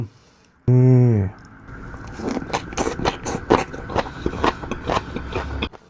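Close crunching and chewing of crunchy shredded papaya salad with pickled fish and crab paste, a steady run of wet, crisp bites after a brief hum.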